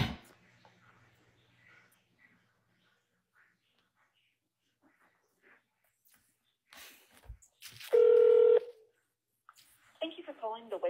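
Touch-tone telephone dialing while calling the police: a loud, steady keypad tone near the 8-second mark, followed by a brief warbling ring or line tone, with faint scattered rustling and breathy speech earlier.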